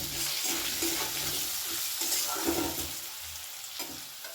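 Turmeric, chili powder and salt fry in a pan for a bitter gourd chorchori, with a close, steady sizzle and a rhythmic scraping of the spatula as the mixture is stirred.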